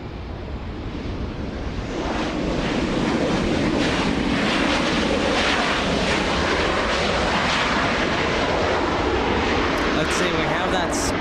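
A Southwest Airlines plane in special livery roars steadily through a broad, rushing engine noise that swells after the first two seconds and holds loud and even, with wind mixed in.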